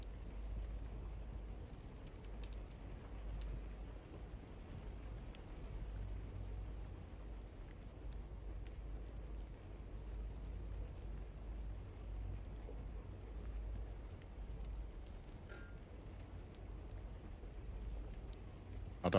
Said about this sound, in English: The storm's cleared, I can still hear rain.